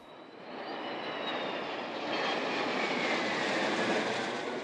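Military jet fighters, Croatian MiGs, flying over Knin, a loud rushing roar that swells as the aircraft pass, with a faint whining tone sweeping across it and no voices.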